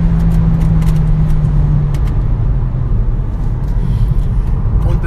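A VW Golf GTE plug-in hybrid accelerates with its combustion engine engaged, giving a loud, sustained engine roar close by with a rising tone early on, steady to the end and no talk over it.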